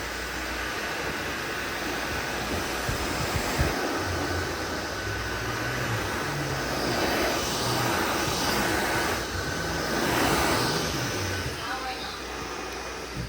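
A Tineco S7 Pro cordless vacuum mop runs on max mode over dried mustard on a hard floor, a steady whooshing motor roar with faint rolling and scrubbing under a voice talking.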